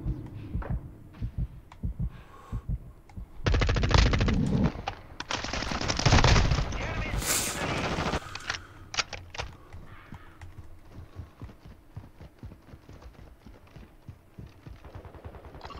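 Shooter video game gunfire: scattered sharp shots and clicks, then two loud sustained bursts of automatic fire mid-way, trailing back into sparse distant pops and clatter.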